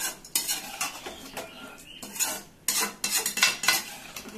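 Chicken kadai with yogurt being stirred in a kadai on the stove, with repeated scraping and clinking of a metal spoon against the pan over a light sizzle, close and fairly steady, with no talk.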